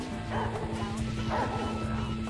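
A dog in Grand Theft Auto V gameplay barks and yips in quick repeated bursts, close and fairly loud, over a steady low background hum.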